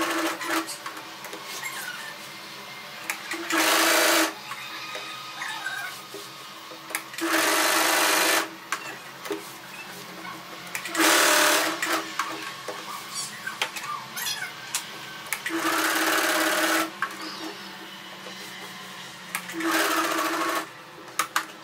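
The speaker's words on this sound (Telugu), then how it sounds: "ఆ కార్నర్స్లో నీడిల్ ఉండేలా పెట్టుకొని లోపలికి ఇప్పుడు స్టిచ్ చేసుకుంటున్నాను" A sewing machine stitches dress fabric in repeated bursts of fast, rattling needle runs, each a second or two long, separated by quieter pauses as the fabric is turned; close and fairly loud, with no talking.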